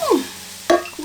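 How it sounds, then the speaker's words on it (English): Sausages frying in a pan are stirred, giving a brief scrape and a sharp sizzling clatter, then a second quick stir sound close up. "Stir quickly."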